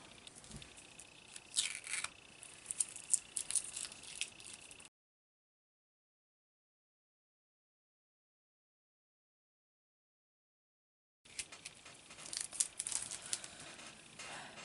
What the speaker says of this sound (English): So I think I'm going to go, if I can, and replace all of this orange washi tape.